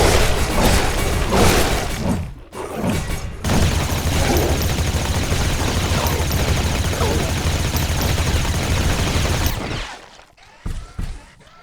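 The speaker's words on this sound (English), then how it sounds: "One of our walls has been destroyed." A wall being destroyed in The Riftbreaker, a loud chaotic mix of shattering debris, booms and rapid weapon fire lasting several seconds, then fading into sparse impacts.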